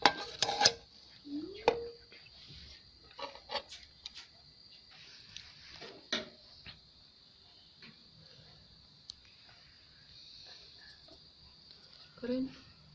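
Cooked vegetable fried rice being spooned out of a pot onto a dish, with scattered scrapes and clinks of the spoon against metal and a few brief rustles, fairly quiet and spaced out.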